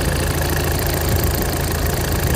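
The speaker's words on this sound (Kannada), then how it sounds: "ಇಂಜನ್ ಚಾಲು ಮಾಡೀನಿ ನಿಮಗೆ. ಗಾಡಿ ಇಂಜನ್ ಭಾಳ ಅಂದರೆ ಭಾಳ ಸ್ಮೂತ್ ಐತಿ." A Tata Nexon's engine idles steadily and smoothly, a constant even hum with no talk over it.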